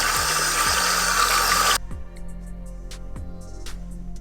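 A tap runs hard for nearly two seconds in a dense rushing stream while hiking boots are rinsed. It then cuts off, leaving drips, splashes and a low steady hum.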